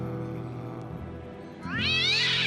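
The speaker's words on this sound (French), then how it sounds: "Oh oui, il est mignon, le minou." A cartoon cat lets out a rising, wavering meow over a steady background music bed, loud and close near the end.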